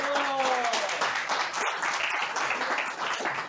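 A church congregation claps steadily throughout, a dense fairly distant patter of applause with a faint voice and cheering beneath it.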